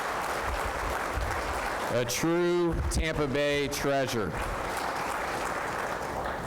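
An audience at a college football playoff preview event applauds in a continuous broad wash that runs the full length, with a voice speaking over the middle.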